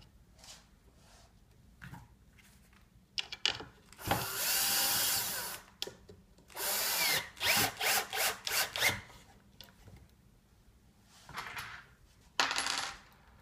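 A power drill drives screws through drywall to hold pieces behind a mock wall frame for a gate, in several short whirring bursts separated by pauses, with light clatter between them.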